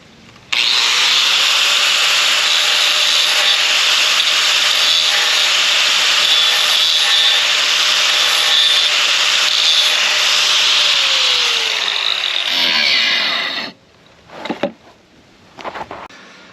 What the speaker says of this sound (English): I'm just going to turn the grinder back on and clean up the edge